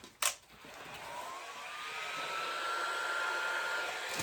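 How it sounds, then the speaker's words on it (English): A heat gun blows a steady, close airy rush across an ocean-pour resin table top, starting after a brief knock and holding a level hiss with a faint rising whine throughout. "Now I'm going to take my heat gun and move this around."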